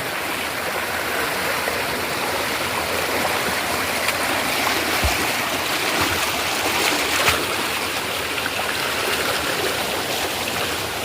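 Stream water flows steadily through a forest in Dhamapur, Sangmeshwar, during crab season, running high at about knee depth, a continuous broadband rush and babble with no talking, loud and close throughout.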